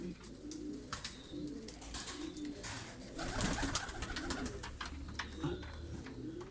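Pigeons in a breeder's coop coo in low, overlapping murmurs, with wing flutters, scratching and light clatter mixed in, close and continuous.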